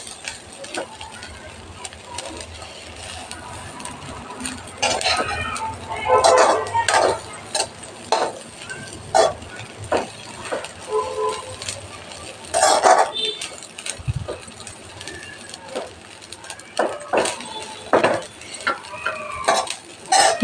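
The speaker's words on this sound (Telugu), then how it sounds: "మసాలా పౌడర్ మొత్తం కలిసేటట్టు కలిపి 1 నిమిషం పాటు వేగనివ్వాలి." Masala-coated fish is stirred and fried in a pan, with repeated metallic scrapes and clinks of a utensil against the pan over a low sizzle, intermittent and close.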